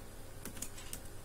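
Quick bursts of keystrokes on a computer keyboard, a handful of close, light clicks in an uneven rhythm over a faint steady background hum.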